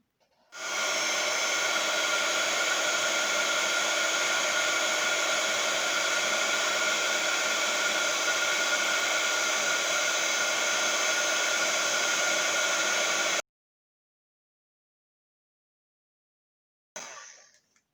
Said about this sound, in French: Et là, je vais chauffer avec mon pistolet